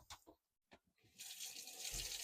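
A washroom tap in a 2022 Swift Voyager 594 coachbuilt motorhome gives a steady, faint hiss of running water after a few soft clicks and knocks.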